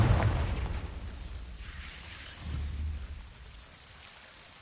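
A Confringo blasting spell explodes in the Hogwarts Legacy video game, a loud burst at the start rumbling away, then a second muffled boom midway, under a steady rain-like wash with no talking.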